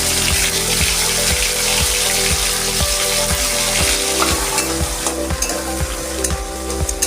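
Torn bay leaves, white cumin seeds and ground cumin paste fry in hot oil with a loud, steady sizzle and crackle. A rhythmic, pulsing hum runs underneath, and there is no speech.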